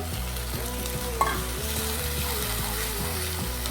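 Ground tomato sizzles in hot oil for yellow pumpkin kurma, with a spoon scraping and stirring the pan in regular strokes close up under a continuous frying hiss.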